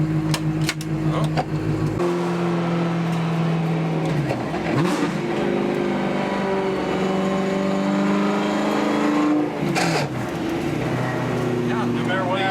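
A BMW M3 E92 accelerates hard on a track, its engine climbing loudly in pitch, dropping at gear changes and surging again, with people talking inside the car over the roar.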